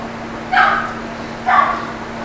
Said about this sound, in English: sorry for the dog in the background. That's my grandmother's dog